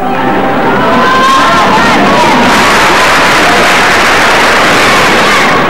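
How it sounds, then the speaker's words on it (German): Crowd of figure skating fans in an arena chanting a skater's nickname, a loud, dense wash of massed voices and cheering that holds steady throughout. "Die Fans rufen ungeduldig seinen Spitznamen, Genia, bis er endlich die Arena betritt"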